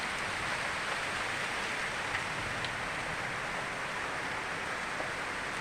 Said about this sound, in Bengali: দেখো আমাদের এখানে ভীষণ বৃষ্টি